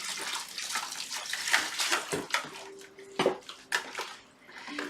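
Water pours and splashes into a thick pumpkin mixture being stirred by hand, with uneven sloshing bursts and drips close up.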